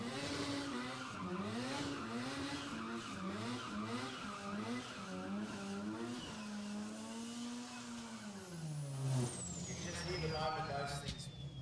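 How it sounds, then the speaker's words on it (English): Race car tyres squeal through burnouts at a Billet Boss drag racing event, a loud, sustained screech whose pitch wavers and slides continuously for the whole stretch, with engine roar underneath. "those tyres just turn to mush in the burnouts"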